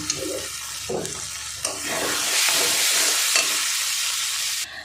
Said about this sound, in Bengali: আলু দিয়েও একটু আমি কষিয়ে নেব মশলার সঙ্গে।